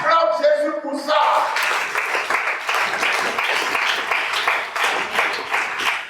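A church congregation breaks into loud, sustained applause with cheering, following a brief spoken moment at the start.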